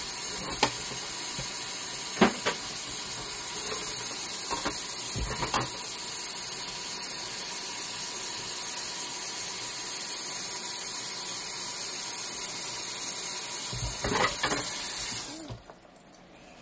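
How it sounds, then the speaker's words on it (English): Water runs steadily into a container of black walnuts for a long stretch, a constant hiss with occasional knocks, then stops abruptly near the end. "I'm going to fill it with water, or just above the walnuts with water."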